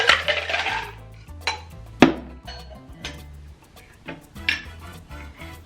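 Ingredients for an Adios Motherf**ker cocktail, including blue curaçao and sweet and sour mix, go into a metal shaker tin, giving scattered sharp clinks and knocks of metal and ice, close and with no voices.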